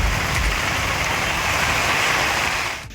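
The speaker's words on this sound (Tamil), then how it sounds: "புதுக்கோட்டை மாவட்டத்தில் மாநகர் பகுதிகளில் 1 மணி நேரத்திற்கு மேலாக கனமழை பெய்தது." Heavy rain pours over urban areas of Pudukkottai district in Tamil Nadu, a steady, dense broadband hiss that stays loud and even for nearly the whole stretch before easing slightly at the end.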